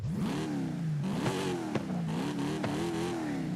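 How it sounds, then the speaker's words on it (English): A supercharged V8 car engine in Forza Horizon 5 revs up and down repeatedly in loud, rising and falling surges, with a few sharp pops between revs. "But it's supercharged V8, dude. How can you not like it? Right off the bat. Sounds freaking amazing."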